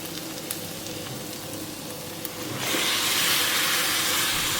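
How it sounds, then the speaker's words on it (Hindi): Marinated chicken pieces dropped into frying onion masala, a steady hiss that swells into a louder, broad sizzle partway through and holds, close and with no talk. "तो अब हम चिकन के पीसेस को भी इस प्याज के मसाले में डाल देते हैं।"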